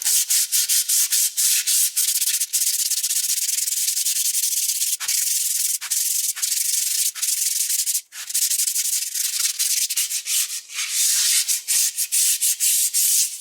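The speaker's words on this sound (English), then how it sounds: "have I been rubbing brake drums a lot in this video?" Steady abrasive rubbing on the brake drums of an abandoned Tri 5 Chevy, a continuous close scratchy hiss broken by brief pauses as the stroke changes.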